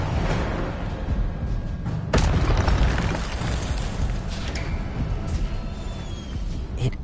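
Incendio fire spell burst in Hogwarts Legacy, a loud whooshing blast with a sharp onset around the middle, followed by roaring, crackling flame and rumbling combat noise that slowly fades.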